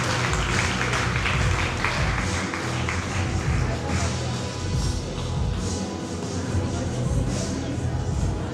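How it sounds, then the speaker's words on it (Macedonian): Audience applause fills a fashion show hall, a dense wash of clapping that holds steady throughout, mixed with crowd noise and voices. "да ги поздравиме со еден громогласен аплауз"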